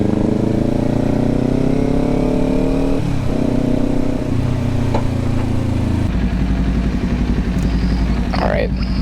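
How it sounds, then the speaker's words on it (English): A passing sports bike engine revs and shifts, loud and close, with a steady low rumble that changes pitch partway through, while traffic noise continues around it. "Oh, there's a sports bike right there. Ooh, it sounds good."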